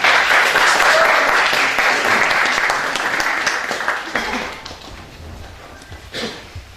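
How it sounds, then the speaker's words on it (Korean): An audience at a lecture on the Korea-US free trade agreement welcomes a pastor with dense, sustained applause that gradually thins out and fades over several seconds. "그래서 좀 박수로 좀 환영해 주시고 이야기를 부탁드립니다."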